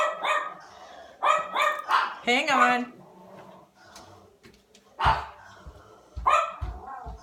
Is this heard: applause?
no